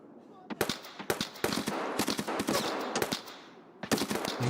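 Rapid bursts of gunfire in the video game Escape from Tarkov on the Shoreline map, sharp repeated shots in clusters with brief pauses between, loud and close, ending with a final volley.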